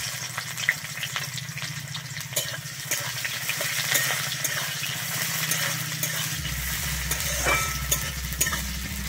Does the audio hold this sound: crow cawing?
no